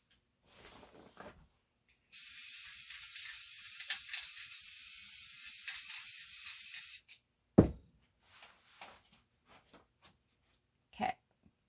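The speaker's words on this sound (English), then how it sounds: "I'm going to spray it." Spray paint on a distressed woodgrain finish: a steady hissing spray bursts out for about five seconds, fairly loud and continuous, followed by a few short handling clicks and taps.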